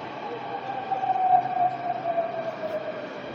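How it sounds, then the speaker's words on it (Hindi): A Delhi Metro Blue Line train hums and whines as it pulls into the platform, a steady tonal drone with rumbling underneath, moderately loud and nearby. "ये हमारी मेट्रो आ चुकी है द्वारका सेक्टर 21 की ओर जाने वाली"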